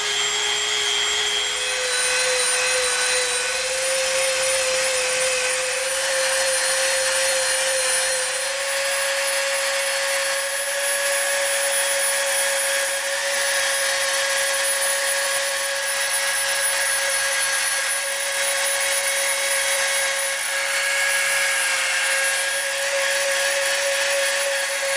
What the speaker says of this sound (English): We're gonna tear this thing up with the Dremel and we're going to round it off.